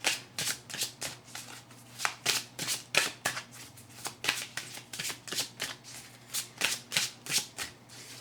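Oracle cards shuffled by hand for a reading, a quick regular run of papery riffles and slaps repeating close to the microphone for several seconds, with no talking.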